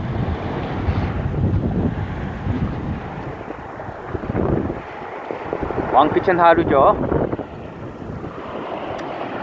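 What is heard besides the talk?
wind blowing at the river mouth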